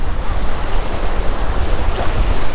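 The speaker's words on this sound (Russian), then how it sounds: "Поднялись гребешки, видите, вот такие белые волны от ветра." Rough sea off the Black Sea coast at Novorossiysk during a storm, with whitecapped waves crashing continuously and strong wind buffeting the microphone, a loud, steady roar with no voices.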